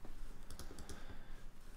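Rapid keystrokes on a computer keyboard, a quick run of light clicks close to the mic over a steady background hum, with no one speaking.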